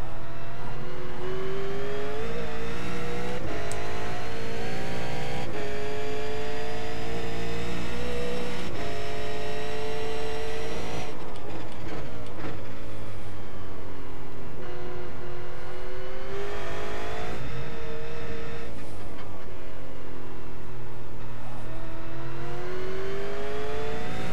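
A V8 Supercar races around Sebring in iRacing, its engine loud and close as it climbs through revs and shifts in repeated upshifts and downshifts, a continuous howling drone with no talking.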